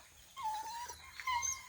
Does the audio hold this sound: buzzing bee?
no